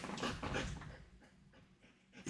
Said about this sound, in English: Hear her panting.